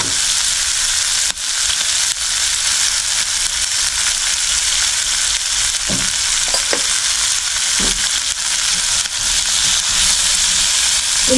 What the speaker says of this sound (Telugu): ఈ ఉల్లిపాయలు మగ్గటానికి కొంచెం మనము ఉప్పు వేసేసుకుందాం.